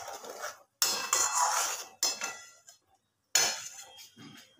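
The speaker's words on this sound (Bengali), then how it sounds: "মশলাটা ভালো করে ঝোলের সাথে মিশিয়ে দেব" A spoon clatters and scrapes against a pot as spice paste is mixed into simmering fish curry gravy, coming in three separate bursts of metallic stirring with short pauses between them.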